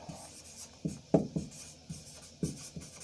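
Chalk or pen writes a lecture heading on a board, a series of short scratchy strokes with pauses between them, close and fairly quiet, with no talking.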